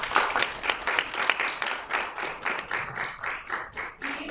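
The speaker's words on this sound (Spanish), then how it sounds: "Le damos un aplauso" An audience at a university workshop on the origins of violence in Puerto Vallarta claps steadily, moderate and somewhat distant, with rhythmic group clapping slowly thinning over a few seconds.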